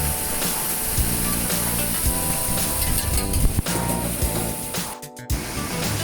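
Minced meat for a Bolognese sauce sizzling in a pan, a loud, dense, steady hiss with crackling throughout, briefly cut out near the end.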